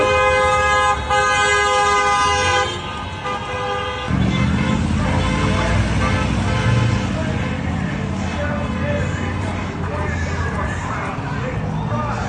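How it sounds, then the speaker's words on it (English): Car horns toot repeatedly in support of a street protest against ICE, short blasts and a sustained honk over traffic noise and crowd babble, with people talking nearby throughout. "you hear the honking from people in support"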